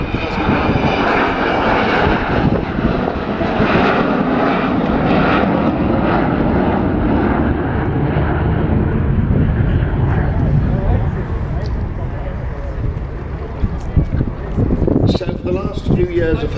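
An Avro Vulcan jet bomber passes at an air display, a loud, close, broad roaring rumble with wind buffeting that holds strong, then eases slightly near the end as a voice talks over it.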